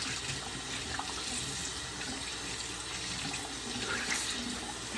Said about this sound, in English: I'm about to put cool water on it.